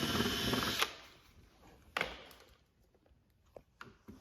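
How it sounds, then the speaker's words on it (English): Short bursts of a power drill whirring as it drills into a Yamaha RMAX2 fender, a couple of loud spurts followed by fainter brief revs, close by with no talking. "Take your drill and go in"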